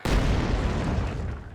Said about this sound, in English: There you can see they threw a grenade.